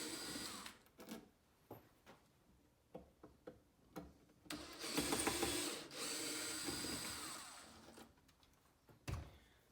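Screws being backed out of the rear panel of a guitar amp, quiet scattered clicks and scrapes with a longer rattling stretch in the middle, close and faint, no voices.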